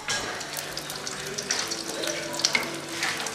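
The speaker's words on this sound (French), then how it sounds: "le riz local acheté au marché de Cocody est en pleine cuisson dans les casseroles" Local rice from a market in Cocody, Côte d'Ivoire, cooks in pots in a restaurant kitchen, giving off a steady hiss of bubbling and sizzling with faint clatter, constant throughout.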